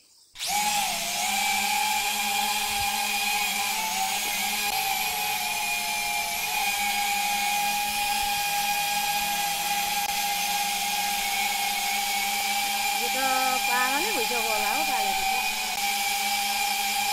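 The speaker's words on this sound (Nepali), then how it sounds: "एउटा ड्रोन सट लिउँ है" A camera drone flies over a home flower garden, its motors giving a steady, close, high-pitched whine that holds for the whole stretch with slight shifts in pitch near the end.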